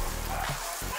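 A dog barks and yips loudly up close during an outdoor walk, a quick series of sharp woofs mixed with whimpering over about a second, with a voice briefly present.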